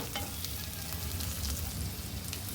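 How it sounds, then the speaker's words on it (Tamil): Capsicum and vegetables sautéing in a pan for elbow pasta, a soft continuous sizzle with faint stirring and scraping, close and steady, no voices. "இதையும் ஒரு 2 மினிட்ஸ் வதக்கிக்கோங்க."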